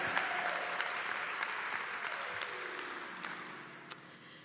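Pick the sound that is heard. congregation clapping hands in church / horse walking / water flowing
congregation clapping hands in church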